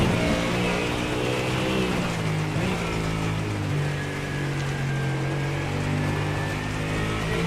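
A GT3 race car engine at the Circuit de Spa 24-hour endurance race in iRacing, a steady loud drone with sustained harmonic tones and slight pitch shifts throughout, no talking.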